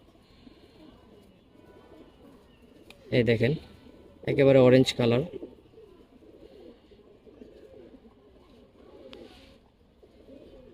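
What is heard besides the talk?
giribaz pigeons cooing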